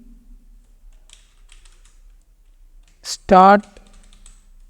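Faint, scattered keyboard clicks come from typing a Django command into a computer terminal, mostly in near silence, with a single short spoken word breaking in partway through.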